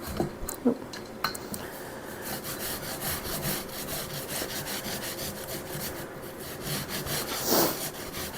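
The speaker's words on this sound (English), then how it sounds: "But this grater works really well." Food rubbed briskly over a handheld grocery-store grater while preparing a BBQ recipe, a steady close rasping scrape in continuous rhythmic strokes with a few sharper knocks, no talking.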